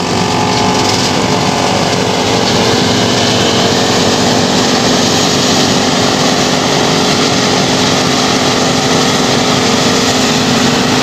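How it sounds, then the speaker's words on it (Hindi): A New Holland FX28 silage harvester cuts a standing crop, its engine and cutting gear producing a loud, dense, unbroken drone with a steady mechanical hum throughout and no voices. "काफ़ी ऊपर रख के मशीन चलाते हैं तो काफ़ी, ये देखें, बहुत ही अच्छी कटाई हो रही है।"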